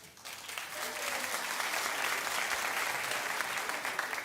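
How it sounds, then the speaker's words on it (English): A television talk show studio audience breaks into applause, starting quietly and swelling into steady, full clapping from many people. "Clap if it's not so good."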